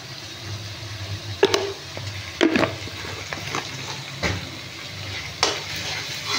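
Food being stirred and mixed in a pan while cooking a Bengali dish with a little salt added, with scraping taps and a soft frying sizzle underneath, a few louder clinks scattered through.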